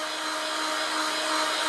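Heat gun blowing hot air onto the bashed-in foam nose of a Durafly Tundra model plane, a steady loud broadband whoosh with a faint motor whine, continuous and close throughout.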